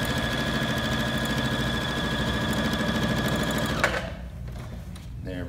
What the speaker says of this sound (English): I'm gonna sew, and now I'm sewing three layers where it's folded over.